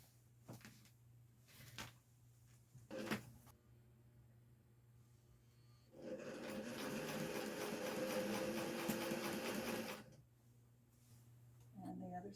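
A sewing machine stitching the side seam of a fabric Christmas gift bag, running steadily for about four seconds, with quiet handling of fabric and a few knocks before and after.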